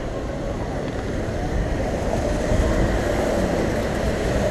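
A small train rumbles along steadily in Singapore, a continuous low mechanical roll with faint rattling, fairly close and unbroken throughout.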